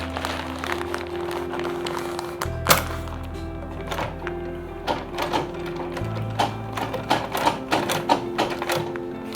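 Sewing machine stitching a leather belt onto a handmade lunch bag, running in short bursts with irregular clicks and thunks over a steady low motor hum, fairly close.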